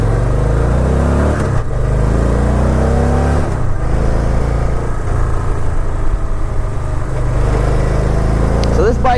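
Motorcycle engine at close range rumbles and revs unevenly as the rider sets off, a loud low chug with a few throttle blips, and talk over it.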